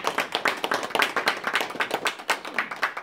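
An audience at a church appreciation ceremony claps in a lively, rhythmic burst, distinct handclaps close and fairly loud, continuing steadily for a few seconds.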